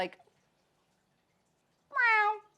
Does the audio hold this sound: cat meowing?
yes